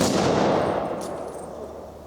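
A rifle volley at an outdoor Veterans Day ceremony cracks out as one loud, close burst, then trails off in a long rolling echo.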